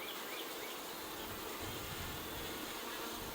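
Honey bees buzz at an open hive on a bee ranch, a steady dense hum that carries on without a break throughout, faint and even, with no voices.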